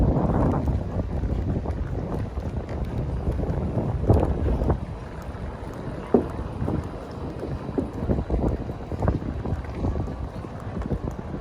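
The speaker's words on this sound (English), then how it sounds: "The wind picked up." Steady wind gusting along the Wildwood boardwalk at night in North Wildwood, a loud continuous roar of microphone buffeting that swells and dips without pause, with no voices.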